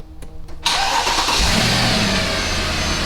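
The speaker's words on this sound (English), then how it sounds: "I'm gonna go ahead and start the engine real quick" A Mercedes W164 ML63 engine cranks briefly and catches, then settles into a loud, steady rumbling idle close by, with faint handling noises before the start.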